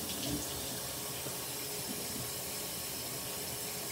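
Tap water pours steadily into a sink while a clam is rinsed, a constant close hiss and splash with no talking.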